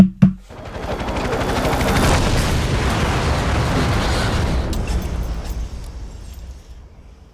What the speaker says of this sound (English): Just hose this thing with bullets, and we are donezo.